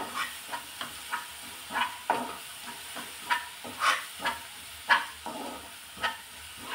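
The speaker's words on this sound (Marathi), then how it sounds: "आता हे छान असं तेलावर परतून घेणार आहोत" Green chilies and ten to twelve garlic cloves sauté in oil for a cabbage dish, making a soft continuous sizzle broken by periodic stirring clinks and scrapes, close and fairly quiet, with no voices.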